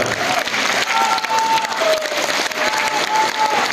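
Audience at a Bashkir and Tatar folk song and dance concert applauding, dense continuous clapping throughout with faint crowd noise and a held musical tone beneath.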